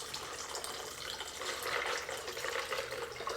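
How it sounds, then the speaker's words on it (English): Liquid splashing and pouring steadily into a blender for a few seconds, a continuous watery rush with no voices. "I'm gonna pour in about 2 cups"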